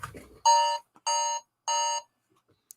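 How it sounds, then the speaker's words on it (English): An alarm clock goes off for a dinner reminder, sounding three loud, steady electronic beeping bursts, each about half a second long, with short gaps between them and no talk over it. "There's me alarm to do dinner."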